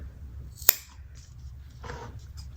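Scissors trimming fabric ends during bag making, one sharp close snip followed by softer rustling of the material, faint and without talk.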